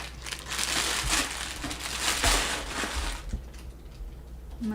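A pet crinkles and crushes a plastic bag up close in a steady, continuous rustle of loud crackling bursts, with no talking.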